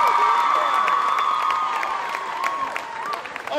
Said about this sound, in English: Come on, give me a clap, give me a clap, give me a clap.